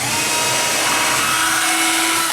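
A power drill bores holes for wiring behind a timer in a homemade desulfating capacitive battery charger, giving a loud, continuous whirring grind throughout.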